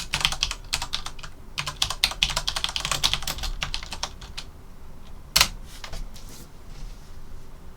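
Close, fast typing clatters on a computer keyboard as a message goes into a live stream chat. Bursts of keystrokes come with short pauses and a louder clack near the end, with no talking.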